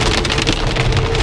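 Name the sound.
heavy rain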